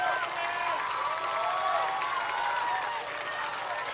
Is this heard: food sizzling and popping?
no